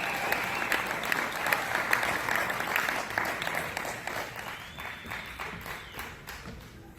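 Warm audience applause welcoming a performer to the stage at a charity anniversary party in Dallas, a steady crowd of clapping that gradually softens over several seconds, heard from a moderate distance.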